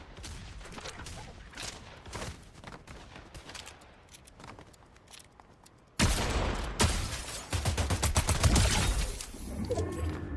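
Shotgun blasts in Fortnite: after a stretch of quieter game noise, a loud burst of gunfire erupts, with several sharp, rapid shots and dense crackling layered close together.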